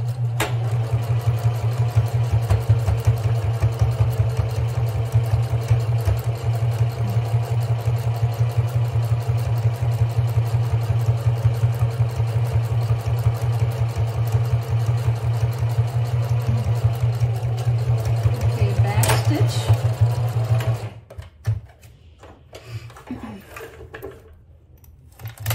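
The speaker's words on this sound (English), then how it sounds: "And I'm gonna start to sew." Sewing machine stitching fabric for a beginner's bag, a steady continuous motor hum with rapid needle rhythm running for about twenty seconds before stopping, followed by quiet handling noises.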